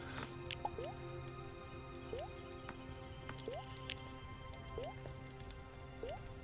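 Rain dripping in the game Starbound: soft, scattered water drops with a few squishy plinks repeating at irregular intervals over a faint steady hiss, quiet and without talk.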